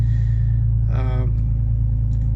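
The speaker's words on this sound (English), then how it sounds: "So that's my car running now." A Jeep Wrangler engine runs with a loud, steady, deep rumble that fills the whole stretch, while a brief voice rises above it partway through.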